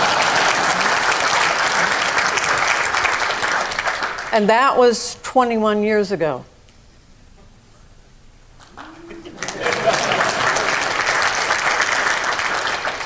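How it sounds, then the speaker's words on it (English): An audience at a keynote talk on organizational change breaks into warm applause that fills the opening seconds, stops while the speaker talks, then drops to near silence before a second round of clapping swells and carries on to the end. "I usually get a little applause."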